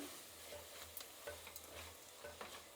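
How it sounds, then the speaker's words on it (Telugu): Mint, coriander and green chillies fry gently over a low flame for mutton biryani, giving a soft, faint sizzle broken by a few light stirring scrapes, with no voices. "పుదీనా, కొత్తిమీర, పచ్చిమిర్చి పచ్చి వాసన పోయేదాకా వేయించుకోవాలండి సిమ్లో పెట్టుకొని"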